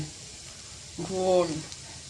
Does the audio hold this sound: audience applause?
no